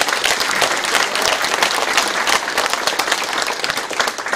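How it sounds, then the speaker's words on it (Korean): Dense, steady applause from a city hall audience for the Icheon city council members, loud and sustained throughout with no voices over it. "한번 큰 박수"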